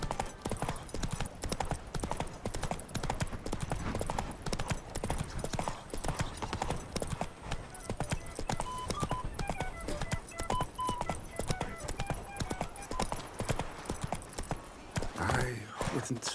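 Rapid, continuous hoofbeats of Geralt's horse Roach galloping in The Witcher 3, loud and close, with a brief neigh and a voice near the end.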